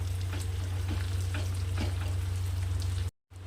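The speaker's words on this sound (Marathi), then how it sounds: "पूर्ण मिरची मी ॲड केली आता याला असं परतून घ्यायचं आहे" Bell peppers fry over medium heat in a pan with a steady, close sizzle and occasional stirring scrapes over a low hum, ending in a brief moment of silence.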